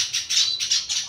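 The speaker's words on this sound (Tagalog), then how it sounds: "Nasa labas yung mga ibon." Gouldian, zebra and Java finches in an aviary give a quick series of high, thin chirps, close and clear, three or four calls in about a second.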